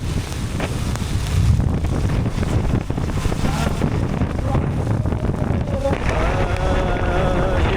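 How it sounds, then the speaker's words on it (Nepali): Heavy rain and strong wind during the rainy season in Nepal roar continuously up close, with gusts buffeting the microphone throughout. "के साह्रो पानी परेको यार, के साह्रो पानी परेको।"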